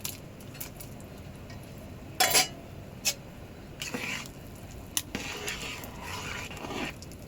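A spoon stirs rice with spices and fried potatoes in a cooking pot for potato pulao, giving soft intermittent scrapes and a few sharp metallic clinks. The sounds are quiet, close and irregular, with no talking.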